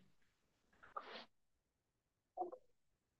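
A person sneezes twice during a guided group breathing and energy practice, a sharp burst followed about a second later by a smaller one, close and clear against near silence.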